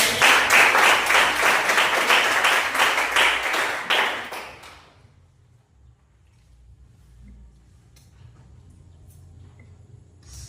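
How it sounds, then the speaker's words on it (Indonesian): A classroom audience applauds a presenting group with a burst of many hands clapping close and steady for about four seconds, then it fades to near silence with faint room noise. "kasih tepuk tangan dulu untuk kelompok."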